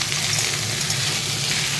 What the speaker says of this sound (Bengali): পেঁয়াজের সাথে একসাথে ভাজা করবো।